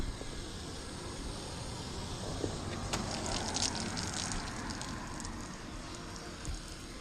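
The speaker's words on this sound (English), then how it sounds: "Alright, so we're rinsing this thing off" Water spraying steadily over an aluminum Smokercraft boat hull during a rinse, a continuous broadband hiss with splashy bursts near the middle, fairly close and even throughout.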